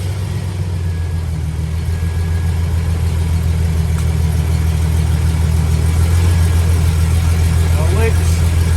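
A 1999-2003 Chevy Silverado engine idles after a fuel filter replacement, giving a loud, steady low-pitched hum that holds evenly throughout with no clear revving.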